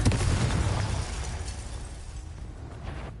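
Spell blasts from Hogwarts Legacy on PS5: a loud, booming burst at the start that rumbles and fades into a diminishing crackling wash, with no voices.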